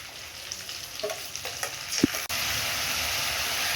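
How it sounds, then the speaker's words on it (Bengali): Tomato and spices, garlic, ginger, cumin, coriander and red chili, frying in a pan, a close steady sizzle with a few stirring scrapes, then a sharp clack and a louder, even hiss of frying continuing to the end. "এবার টমেটোটা দিয়ে দেবো। আর দিয়ে দেবো মশলা।"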